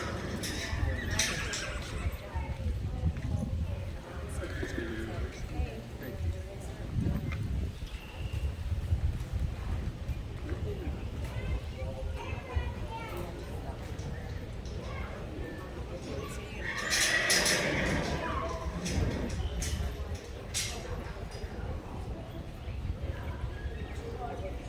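A young horse being started in a colt starting competition moves about in an open outdoor arena, with hoof sounds and occasional snorts and whinnies under steady wind and rustling, while someone talks throughout.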